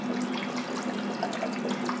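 A steady stream of water runs into a cooking pot holding vegetable peels and capsicum stems, a soft continuous splashing pour heard quietly and alone.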